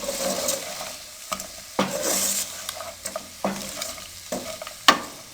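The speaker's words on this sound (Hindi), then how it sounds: "अब इसमें फ्राई किए हुए आलू डाल देंगे।" Fried potatoes for Aloo Manchurian being stir-fried in a pan, with a steady close sizzle broken by repeated scraping stir strokes and a few sharp spatula knocks against the metal.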